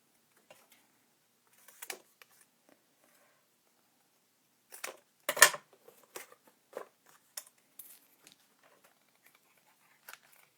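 Scissors snipping paper at a scrapbooking table, a few quiet isolated snips followed by a denser burst of sharp cuts in the middle, then scattered soft clicks; close and fairly faint, with no talk.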